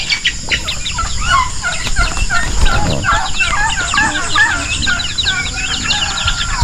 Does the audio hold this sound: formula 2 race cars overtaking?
no